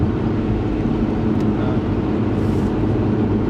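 Lotus Evora Sport 410 engine droning steadily at a constant loud level, a dense low rumble with no clear revs rising or falling, heard alone without talk.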